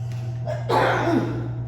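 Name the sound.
sneeze combined with a cough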